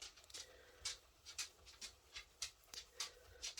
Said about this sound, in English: Can you hear my little doggy walking on my floor?